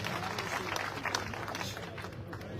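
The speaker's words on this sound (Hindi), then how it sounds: "जोरदार ताली बजाकर अभिनंदन करें" Applause and crowd noise at a Congress election rally, steady and moderately loud, with voices mixed into the clapping.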